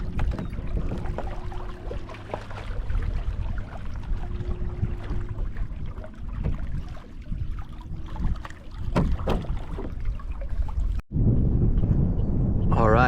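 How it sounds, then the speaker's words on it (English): Kayak paddling across Lake Borgne toward Shell Beach, with soft water swishes and dips under wind rumble on the microphone and someone talking over most of it. "I'm kayaking back towards Campos Marina to Shell Beach"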